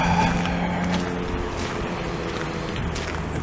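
A Chevrolet Tahoe SUV rolls past on a winter street in an industrial area, a steady broad engine and tire rumble that stays fairly loud and close throughout with no talking.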